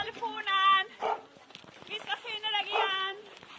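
A dog barks in a replayed recording, giving a few sharp barks and yips in quick bursts, mixed with muffled background noise.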